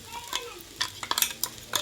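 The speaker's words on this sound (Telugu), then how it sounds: "అప్పుడు మనం ఈ పల్లీలు నువ్వుల పౌడర్ వేసుకొని కలుపుకోవాలి." Sago upma being stirred in a pan after peanut-sesame powder goes in: quick clicks and scrapes of a spoon against the pan over a faint sizzle, close and without talk.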